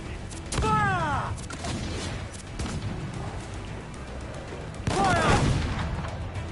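Ship cannons boom in a PS4 naval battle game, two heavy volleys a few seconds apart over constant battle noise, each paired with a shouted voice.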